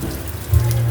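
Rain falling outdoors, a steady patter of drops on surfaces with a low watery rumble that swells slightly partway through, fairly close and with no voices.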